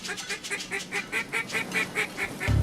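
Ducks honk repeatedly in a steady rhythm during a duck hunt, a run of clear calls at moderate distance, with a sudden low thump at the very end.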